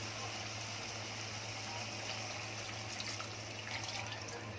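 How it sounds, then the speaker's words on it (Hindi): Tamarind water is poured into a cooking pan on a gas stove, a soft, continuous watery trickle heard fairly faintly over a low steady hum. "अब इसको थोड़ा ढीला करने के लिए इमली का पानी डालूंगी।"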